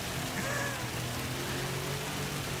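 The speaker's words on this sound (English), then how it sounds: "we are on board with you in the cockpit, and the rain is coming down" Steady rain hiss falling on the track during a wet Gran Turismo race, heard from the cockpit as a continuous wash of noise over a low engine hum, with no talking.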